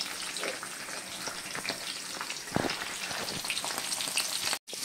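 Fish pieces coated in chilli powder fry in hot oil, giving a continuous crackling sizzle that stays close and even. There is a brief cutout near the end and no voices.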